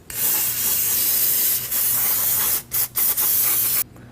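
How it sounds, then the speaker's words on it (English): Brake cleaner hisses in a loud, close spray onto Ford Mustang brake rotors, one long burst followed by a few short stop-start puffs. "get some brake cleaner, spray that off, and turn this as you go so you can get it nice and clean all the way around."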